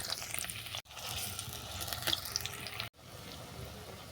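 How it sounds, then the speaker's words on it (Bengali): Chopped onion frying in mustard oil with a little ghee, dried chilli and bay leaf in a wok, a steady moderate sizzle broken by two brief cuts, with faint stirring. "ফোড়ন ভাজা হয়ে গেছে, এবার আমি দেবো পেঁয়াজ কুচি।"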